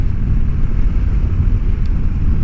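Harley-Davidson Sportster motorcycle engine pulling with strong torque on an open-road ride, a steady loud rumble mixed with wind buffeting throughout.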